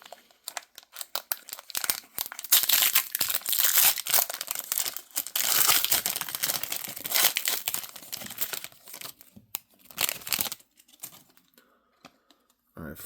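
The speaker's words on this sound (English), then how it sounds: "I'm going to open one more pack." A foil Marvel Beginnings Vol 2 Series 1 trading card pack wrapper is torn open and crinkled up close, a steady run of crisp rips and crackles for about ten seconds, then a few quieter rustles near the end.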